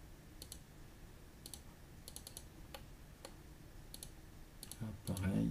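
Mouse clicks in computer software come as scattered sharp, close ticks, some single and some in quick pairs, over a quiet room, with a voice starting at the end.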